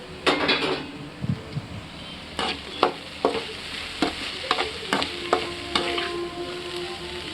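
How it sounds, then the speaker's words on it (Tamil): Mixed vegetables sauté in a pan: a constant sizzle sits beneath repeated clinks and scrapes of a spatula stirring against the metal, close by and fairly loud. "எல்லாத்தையும் சேர்த்துட்டு வதக்கிக்கலாம்"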